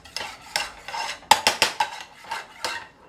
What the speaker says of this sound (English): You're stirring your barbecue sauce.